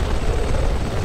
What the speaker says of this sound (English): But will I be shot out of the chopper?